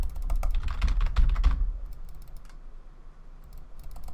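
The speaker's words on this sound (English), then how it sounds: "Alright, you can see I'm typing," Quick, dense keystrokes clatter on a computer keyboard for about a second and a half, then thin out to a few scattered, quieter clicks over a low background hum.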